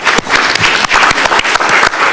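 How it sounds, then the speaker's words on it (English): Audience in a county commissioners' meeting room applauding a firefighter's Exemplary Firefighter of the Year award, a steady burst of crowd clapping with no voices over it. "So I think that deserves a round of applause."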